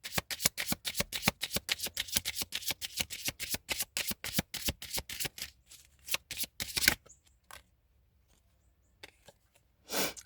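Tarot cards shuffled close up in a quick, even run of crisp slaps and riffles lasting several seconds, then a few scattered taps and a final card placed down after a pause.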